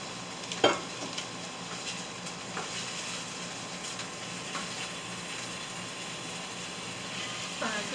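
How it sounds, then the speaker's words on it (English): Peppers and onions sautéed over medium heat in a frying pan give a soft, steady sizzle throughout, with a few faint scrapes and clinks from stirring. "This is what my peppers and onions look like in the frying pan. I just sauteed them for about 10 minutes at about medium heat."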